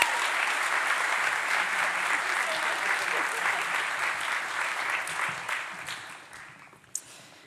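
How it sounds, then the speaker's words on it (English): Audience applause fills a conference hall after a Ruby programming talk at Brighton Ruby, a dense steady wash of many hands clapping that thins and fades toward the end, with a final sharp clap or two. "Let's clap them off the stage."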